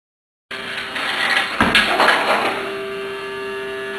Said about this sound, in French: Tu passes l'aspirateur, Victor?